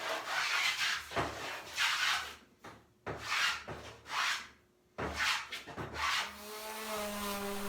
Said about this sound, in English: I'm going to plane away from the line down and in, as you can see me doing here